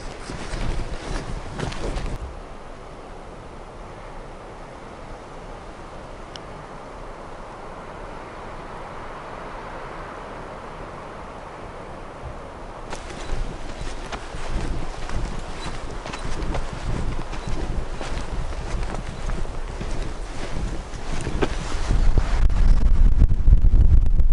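Strong wind gusts buffet the microphone in Zion National Park, a steady broadband rush that eases mid-way, then swells louder and rougher toward the end with heavier low rumble.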